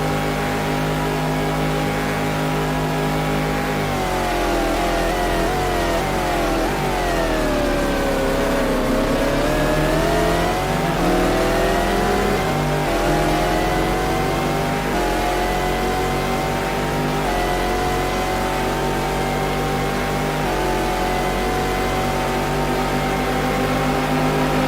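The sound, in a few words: race car engine revving in Le Mans racing video game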